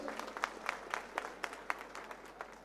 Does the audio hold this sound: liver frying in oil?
no